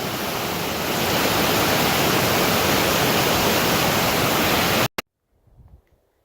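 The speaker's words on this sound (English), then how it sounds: "It's the third waterfall I've seen so far this week." The smallest of three waterfalls on the Three Lakes Loop near Crested Butte, Colorado, roars as a loud, constant rushing wash of water up close, then cuts off abruptly, leaving faint low rustling.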